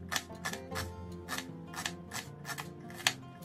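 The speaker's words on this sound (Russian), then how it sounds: "Лук нарезаю на тонкие полукольца." A knife slices an onion into thin half-rings on a board, quiet crisp cuts coming in a steady rhythm of about eight strokes, close by.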